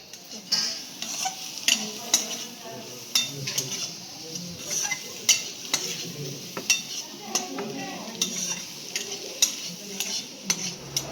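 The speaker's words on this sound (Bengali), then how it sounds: "এখন ডিম ভাজাটা বাইরে এখন করছি পেঁয়াজ দিয়ে ডিম ভুড়ি ভাজাটা" Egg and onions fry in a pan with a steady sizzle, broken by frequent sharp clinks of a utensil stirring against the metal, close and continuous throughout.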